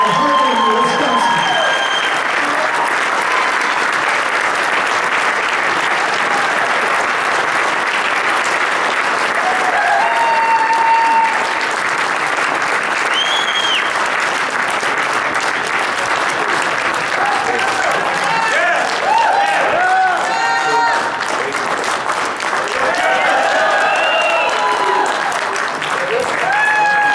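Sustained applause fills a dinner hall as the audience claps for the village president of Hartland, Wisconsin, a dense, steady wash of many hands that holds for nearly half a minute with faint voices and cheers mixed in.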